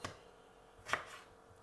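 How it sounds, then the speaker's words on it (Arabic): Knife slicing meat into pieces on a cutting board, two short chopping strikes about a second apart, soft and close with quiet in between. "وبعد كده هبدا اقطعها طرنشات كده زي ما انتم شايفين كده في الحجم ده"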